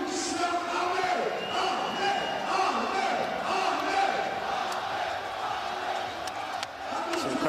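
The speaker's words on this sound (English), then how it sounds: "Crowd cheering and satisfied, very satisfied with the performance by Amir Khan." Boxing crowd at a Jeddah Super Boxing League event cheering after Amir Khan's fight, a dense roar of many voices with whoops rising and falling continuously, fairly loud throughout.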